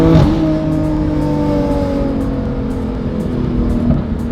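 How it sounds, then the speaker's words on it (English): A Ferrari 458 engine revs hard to the redline in an underpass, climbing steadily in pitch, roaring loud and close throughout with a rough, throaty tone. "so you can hear the car all the way up to the red line."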